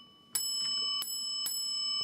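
Bell button rung several times, bright metallic dings repeating roughly every half second with a sustained ringing tone between strikes, fairly faint and close.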